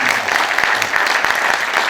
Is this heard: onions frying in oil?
no